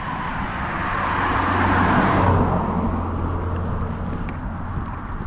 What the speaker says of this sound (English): I think there's a car coming.